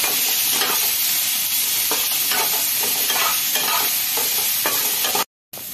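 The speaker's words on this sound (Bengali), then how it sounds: "সবজিটা একটু ভেজে নেব" Vegetables fry in a pan after a ginger tempering for a vegetarian khichuri, giving a constant close sizzle with regular stirring scrapes and a brief dropout near the end, with no voices.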